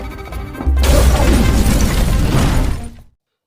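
A bomb rigged inside a cake detonates in a film scene: a sudden loud, close blast that roars and crackles with debris for about two seconds, then cuts off abruptly into silence.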